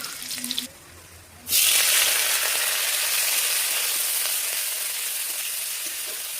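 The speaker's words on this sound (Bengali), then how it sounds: "রসুন কিছু ভাজা ভাজা হয়ে গেলে শুকনো মাছটা দিয়ে দিব তেলের মধ্যেই" Dried fish tossed into hot oil with garlic, a quiet start then a sudden loud burst of sizzling that settles into a steady, close frying hiss.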